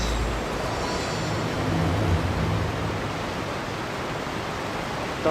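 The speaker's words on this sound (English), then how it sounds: "The waterfall sounds so loud." A waterfall in the video game Genshin Impact roars as a loud, steady broadband rush of falling water that fills the whole stretch without pause.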